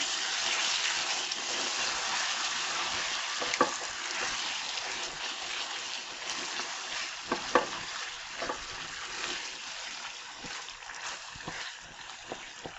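Cabbage stew ingredients seasoned with garlic salt being stirred together in a pot. A continuous soft hiss of cooking runs beneath scattered utensil clicks and scrapes, with no one speaking.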